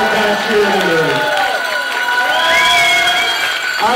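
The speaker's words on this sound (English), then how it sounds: "I want all of you to put your hands together for these ladies who came and put their hands together for us" A mall audience cheers, shouts and claps for the Hamilton Tiger cheerleaders, a loud, continuous crowd roar with children's high-pitched shouts rising over it for several seconds.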